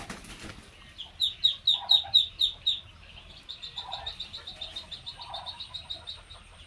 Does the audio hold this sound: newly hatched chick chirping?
yes